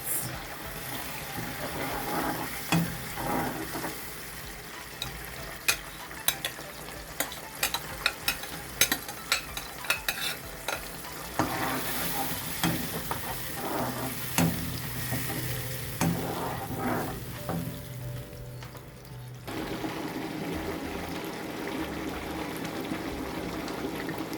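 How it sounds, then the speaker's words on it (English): Brown bean stew with tomato paste sizzles and bubbles in a pot, with steady frying hiss and intermittent stirring clatters close by, continuing without voices. "You see how it is boiling."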